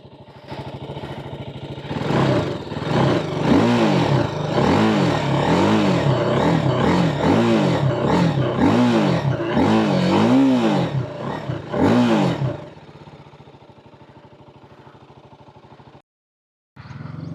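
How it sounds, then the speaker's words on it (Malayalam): A TVS Apache RTR 310 motorcycle revs near and loud from idle, its exhaust rising and falling in a series of quick throttle blips before settling back to a low idle and cutting off. "പക്ഷേ അതിനു മുന്നേ എക്സോസ്റ്റ് നോട്ടൊന്ന് കേൾക്കാം"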